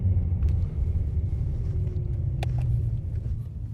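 A car fitted with an S85 V10 engine and a DCT gearbox pulls away smoothly in second gear, a low, steady rumble heard from inside the cabin with faint clicks and no talk.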